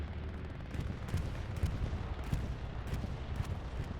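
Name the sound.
bombing run explosions in a video game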